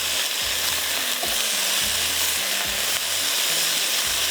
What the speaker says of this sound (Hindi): इसको हम थोड़ा फ्राई करेंगे।